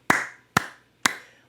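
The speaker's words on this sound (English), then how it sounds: "Let's give it applause here." Three sharp, evenly spaced hand claps close by, each one crisp and quickly decaying, from a single person with no talking.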